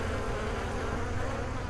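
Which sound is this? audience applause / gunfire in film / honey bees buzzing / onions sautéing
honey bees buzzing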